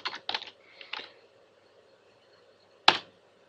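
Keys on a computer keyboard are pressed close by in a few quick clusters, then a quiet gap, then one sharper final keystroke.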